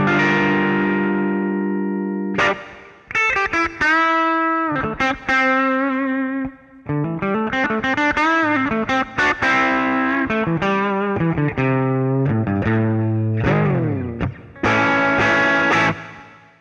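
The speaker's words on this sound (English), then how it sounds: "Let's start off with the 65 Black Vibe, which is basically a cleaner sound." An electric guitar through a clean 65 Black Vibe amp model on a JOYO Jam Buddy 2 plays a melodic run of single notes and chords, slightly effected, close and clear with brief pauses.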